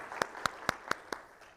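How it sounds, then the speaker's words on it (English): A handful of separate, sharp claps ring out at an even pace in a conference hall, about six in a row, fading slightly toward the end and sounding more like one person's hands than a full audience. "I want to give a round of applause for the organizers and the sponsors real quick"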